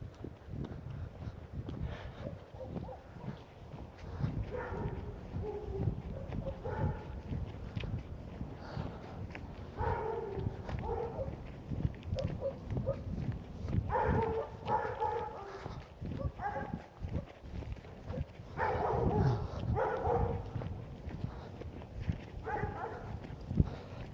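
A dog being walked outdoors late at night, with occasional faint dog sounds and footsteps under intermittent talking and steady outdoor background noise.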